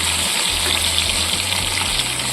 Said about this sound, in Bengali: একদিকে ভাজা হয়ে গেছে, অন্যদিকে উল্টে দিচ্ছি।